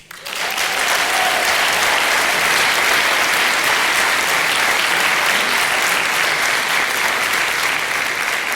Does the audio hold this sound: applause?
yes